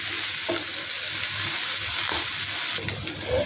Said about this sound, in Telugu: అలాగే ఒక 2-3 పచ్చిమిర్చి, కొద్దిగా కరివేపాకు కూడా యాడ్ చేసేసుకొని బాగా ఫ్రై చేసుకోవాలి